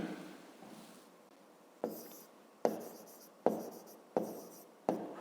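Pen strokes writing numbers by hand on paper, a run of five or six sharp scratchy bursts each trailing off, close and fairly quiet with no talking.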